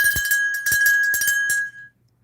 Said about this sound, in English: Nice little brass bell.